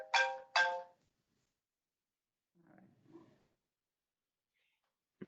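A mobile phone rings in a room, two short loud melodic tone bursts in quick succession up front, then quiet with a brief muffled murmur and a click near the end.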